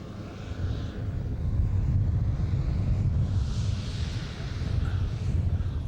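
A scale model Boeing 747 airplane flies overhead with only one of its four engines still running, a steady low droning hum smeared by heavy wind buffeting on the microphone throughout.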